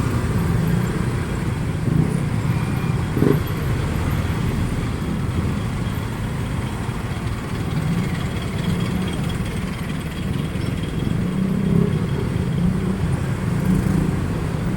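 Dense highway traffic with motorcycles rumbles continuously, a low, steady drone of engines that is loud and close, with a few passing vehicles swelling and fading against the constant mass.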